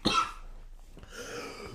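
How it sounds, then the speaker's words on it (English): A person coughs sharply once, loud and close, then a rougher throat-clearing follows after a brief pause. "I was really coughing that."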